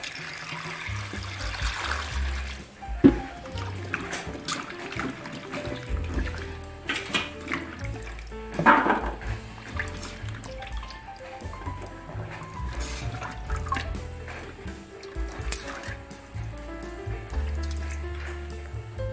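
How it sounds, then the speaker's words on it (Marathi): Carrots are swished and rinsed in water in a kitchen vessel, with sloshing, trickling and soft squishing sounds coming and going in bursts over quiet background music. "आता मी आणखी एका पाण्याने गाजर स्वच्छ धुवून घेणार आहे"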